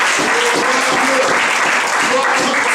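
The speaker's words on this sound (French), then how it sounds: "Est-ce que vous pouvez acclamer le Seigneur?" A church congregation applauds and cheers in worship, a loud, dense and steady wash of clapping with voices mixed into it that does not let up.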